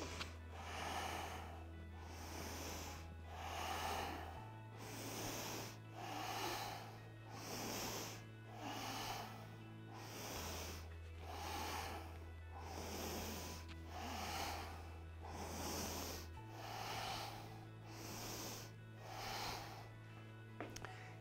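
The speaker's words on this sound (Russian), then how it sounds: "Теперь начинаем делать глубокий вдох вначале животом, потом грудью. Выдох в обратном порядке." Slow deep breathing exercise, drawing air into the belly and then the chest and releasing it in reverse order, with about a dozen regular, close breath cycles over a steady low hum, without speech.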